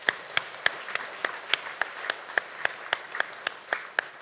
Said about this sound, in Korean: 큰 박수 한번 부탁 올리겠습니다